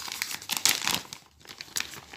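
Crinkling plastic wrap as a cross-stitch kit package is opened, with bursts of crisp rustling and tearing over about two seconds, close and fairly loud with a brief quiet pause midway.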